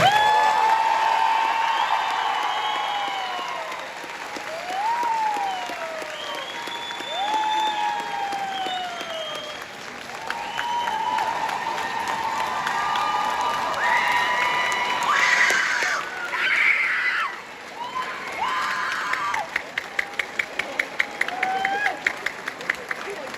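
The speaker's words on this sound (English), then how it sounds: "We're just going to keep the applause going because for the first time I officially announce the graduation of the class of 2024" A crowd at a high school graduation ceremony cheers, whoops and shouts over sustained applause, loud and continuous, with a run of sharp rhythmic claps toward the end.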